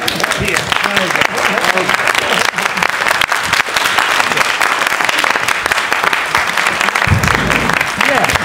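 Loud, sustained applause from a large audience fills the hall, a dense unbroken wash of clapping that carries evenly from start to finish.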